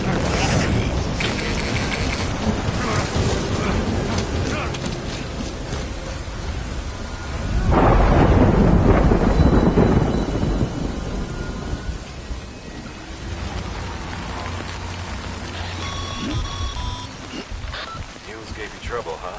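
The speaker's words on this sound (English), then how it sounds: "Good thing it was raining." Steady rain pours in the video game Death Stranding while thunder rolls in, swelling into a loud, heavy rumble midway before easing back to a constant hiss, with talk heard over the storm.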